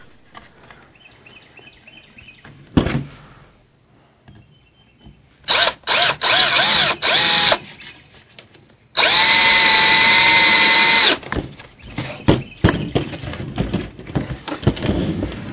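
Power drill driving screws into a light pole stacker, with two loud sustained whirring bursts and a sharp click between quieter handling noises.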